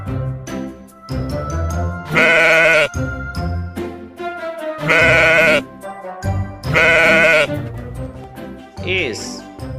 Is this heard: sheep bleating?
yes